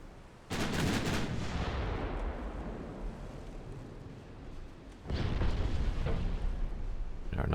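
Warship naval guns fire in a naval combat video game, two heavy booming salvos with long rumbling decay, loud and alone without talk.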